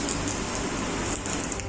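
Water gushing through a leaking ceiling into a hospital ICU ward for Covid patients during the first monsoon rain, heard as a dense, steady rushing and splattering wash with no pauses and no talk.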